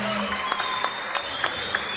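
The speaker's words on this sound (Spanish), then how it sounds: "un aplauso muy grande para ellos, por favor" Scattered clapping from a concert audience follows a band's acoustic set at a 2000 show in Latacunga, with light crowd noise and a few sharp individual claps.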